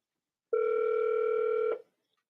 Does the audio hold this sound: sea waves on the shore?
no